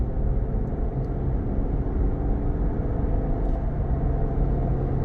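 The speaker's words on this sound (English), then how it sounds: "Now you hear the tires a little bit" A steady, close low rumble of road and tire noise from a 2024 Lexus GX 550 Premium Plus with aggressive tires on Vossen wheels, cruising continuously with no talk.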